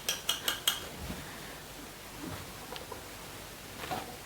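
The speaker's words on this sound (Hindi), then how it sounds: "दही को हम फेंटेंगे" Yogurt being whisked in a metal cooking pot: a quick run of sharp metallic clicks and scrapes, then sparse, softer taps against the pot, with no talking.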